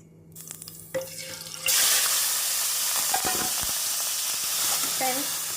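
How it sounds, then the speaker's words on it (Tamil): Marinated chicken dropped into hot oil for biryani, bursting into a loud, steady sizzle after a short quiet lead-in with a few clinks and handling sounds, then frying continuously close up. "எண்ணெய் காயவும் நாம் ஊற வைத்த சிக்கனை சேர்த்து விடலாம்"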